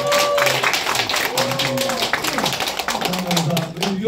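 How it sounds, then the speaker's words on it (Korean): An audience claps at a regional development foundation event while a former South Chungcheong governor gives a congratulatory speech, with brisk clapping mixed under his continuing talk throughout. "박수 한번 주세요."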